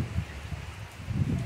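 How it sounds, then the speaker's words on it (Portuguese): Rain falls over a region of northeastern Brazil as a soft, continuous hiss with gentle swells in intensity, heard alone without voices. "Chegou por aqui a chuva."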